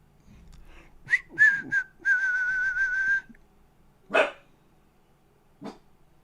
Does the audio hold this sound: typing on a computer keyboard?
no